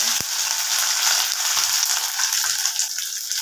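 Shallots and dried red chilies tempering in hot oil crackle in a steady, loud, close-up sizzle with a few small pops, continuous throughout.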